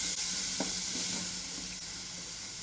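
Palak rice ingredients sizzle steadily in a hot pan, a broad continuous hiss with a few faint stirring clicks, close and alone with no talking.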